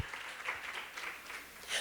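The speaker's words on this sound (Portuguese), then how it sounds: "Vamos aplaudir o nosso Deus?" A church congregation at a women pastors' gathering applauds, a short burst of steady, moderately close clapping from many hands.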